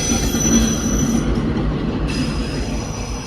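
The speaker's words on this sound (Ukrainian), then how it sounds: "Тут ще бачите, їздять потяги." A train rolls past close by near a riverside fishing spot, a loud sustained rumble of rail cars with squealing, high-pitched wheel screech running throughout, no voices.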